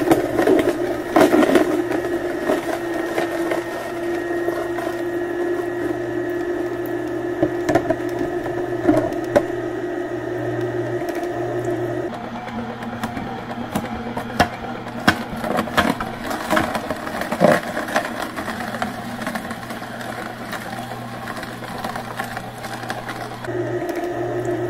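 Two slow-masticating juicers, a Kuvings B6000 and an Omega VSJ843QS, run side by side with a steady low motor hum and faint grinding and crackling of produce, with the tone shifting slightly midway.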